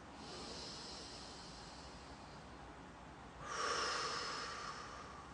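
A slow, breathy inhale through the nose during a guided relaxation breathing exercise, starting as a soft airy hiss, then swelling into a louder, fuller draw of air near the end, with no talking.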